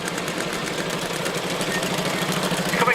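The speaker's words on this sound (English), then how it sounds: "It looks like a push bike, but it's got a 29cc engine on the back." Push bike fitted with a 29cc engine buzzes around an arena at a steam fair, a steady rattling two-stroke drone at mid distance, fairly loud and continuous with no talking over it.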